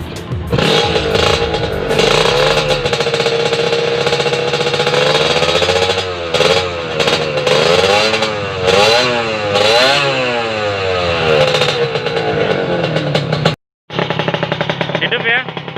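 Kawasaki Ninja motorcycle running on mixed fuel starts and revs hard, loud and close, with rising and falling throttle blips over a steady idle, then a brief cutout before it picks up again.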